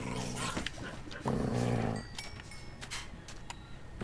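A dog growls and snarls in short bursts amid scattered Minecraft clatter and effects.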